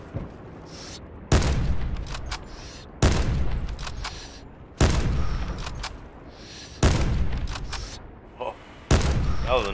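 Gunfire in the Call of Duty Black Ops 4 video game: five loud, sharp shots spaced a second or more apart, each with a booming low tail and a brief quieter gap between, amid faint background game noise.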